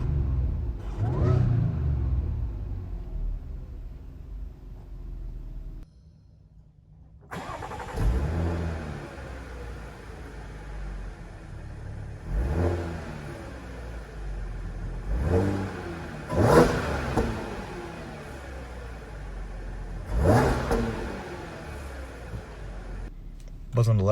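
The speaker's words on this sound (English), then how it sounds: "You can hear that supercharger whine." A supercharged 2014 Audi A6 with an aftermarket air intake starts up and is revved several times, each rise-and-fall blip carrying a climbing whine over a steady close idle.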